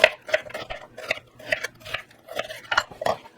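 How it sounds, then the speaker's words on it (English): A knife slicing red onions into thin half-moon pieces on a board, with about a dozen quick, evenly spaced cuts heard up close and alone. "we got to get a couple of red onions sliced up"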